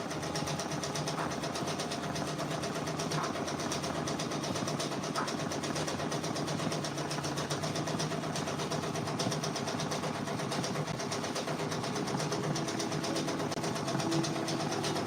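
A computerized embroidery machine stitches out a Drake patch design, giving a steady, rapid mechanical whirr and needle chatter that holds evenly throughout at moderate volume.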